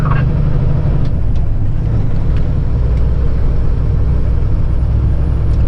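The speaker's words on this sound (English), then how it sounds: "I'll let this traffic by on your right." Steady road traffic rumbles past a truck on Route 66 with no shoulder, a loud continuous engine and tire roar with a brief air-brake hiss near the start.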